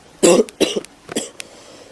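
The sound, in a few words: coughing attack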